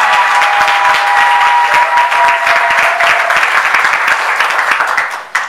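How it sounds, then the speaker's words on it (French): A crowd claps loudly and steadily at a civil wedding ceremony in Gabon, dense applause holding for about five seconds before cutting off, with a faint sustained tone beneath at first. "cela mérite des applaudissements pour la belle famille"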